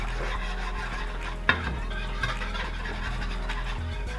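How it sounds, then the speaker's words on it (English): Chocolate gravy being whisked in a pot, a continuous soft scraping and swishing close by, with one sharper knock partway through and no talking. "Just keep whisking that till it starts to become thick"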